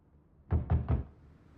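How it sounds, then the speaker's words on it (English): Three evenly spaced, solid knocks on a door in the video game The Wreck, close and clear against a quiet background. "Ryan Gosling knocks on her door to coax her out"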